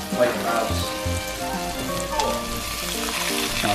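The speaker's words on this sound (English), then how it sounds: "let's spread these out a little bit so that they're frying in different parts of the pan" Black bean vegan burger patties fry in a hot pan, giving a steady close crackling sizzle throughout with small pops, and a faint voice now and then beneath it.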